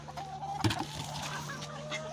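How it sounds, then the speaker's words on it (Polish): Chickens and a rooster in a coop make a few soft clucks close by, with one louder squawk, over a low steady hum. "kogut jest tu"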